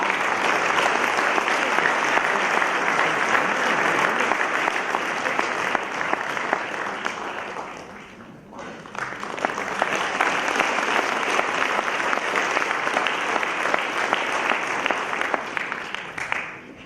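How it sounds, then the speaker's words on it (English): Sustained audience applause with steady clapping from a large crowd, dipping briefly midway before swelling again and continuing. "please welcome with a big round of applause"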